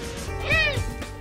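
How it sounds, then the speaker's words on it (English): A great horned owl gives a screaming call while attacking territorial intruders, a single short, harsh, rising-then-falling shriek heard close and fairly loud. "When they attack intruders into their territory, they give a screaming call that sounds like this."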